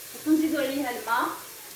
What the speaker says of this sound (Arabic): نزيدو عليها الماء باش ما تنشفناش هذيك الطوماطيس